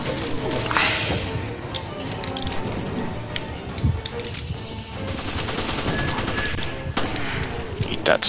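Shotgun blasts and scattered gunfire during a raid in a video game, loud and dense, with several sharp reports layered over continuous game noise and someone talking throughout.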